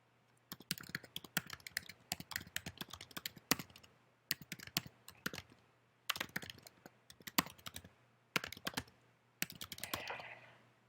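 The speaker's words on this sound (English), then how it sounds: "Enjoy the sound of me typing, I'm sure." Rapid clattering keystrokes on a computer keyboard in several bursts separated by short pauses, fairly close and with no talking.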